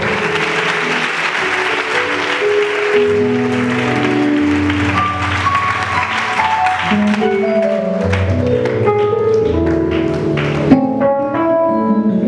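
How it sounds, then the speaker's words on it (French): A church congregation applauds and acclaims Jesus Christ, filling the room with loud, sustained clapping and cheering while tonal sounds, likely music, run beneath it throughout. "Nous acclamons Jésus-Christ pour la famille. Un peu plus fort."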